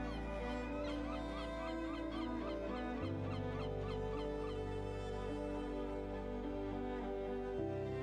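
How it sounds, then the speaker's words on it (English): Seagulls call repeatedly in squawking bursts over a steady droning background in Kamchatka, Russia, fairly loud and continuous. "they draw in the next noisy guests, the seagulls"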